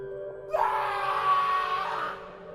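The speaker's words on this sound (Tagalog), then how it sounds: "Sumigaw ako." A man's anguished scream used as a horror sound effect rises abruptly and holds as a loud, sustained wail for about a second and a half, then fades, with no other voices over it.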